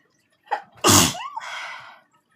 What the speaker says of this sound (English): I'm going to sneeze here in a minute